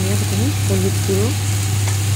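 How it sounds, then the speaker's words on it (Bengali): Ginger, garlic, onion and tomato with salt frying and being stirred in a pan, a loud steady sizzle close by, with a low hum and brief voice sounds over it. "ভালো করে নুনের সাথে আদা রসুন পেঁয়াজ টমেটোকে ভালো করে নাড়িয়ে চাড়িয়ে নেব।"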